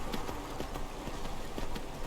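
Horse hooves clip-clop at a steady trotting rhythm in a survival video game, sitting under a dense, constant wash of game ambience, with no voices.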